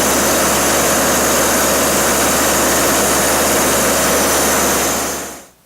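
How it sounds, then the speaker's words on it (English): A dry prime fire pump engine running loud and steady, a dense broadband roar with a low hum that fades quickly to silence as it is shut off at the end. "Now we've just shut off the engine"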